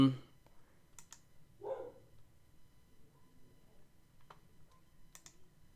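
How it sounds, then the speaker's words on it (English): A dog gives a single short bark indoors, faint and somewhat distant, amid quiet computer keyboard clicking and room hush. "Dog is barking."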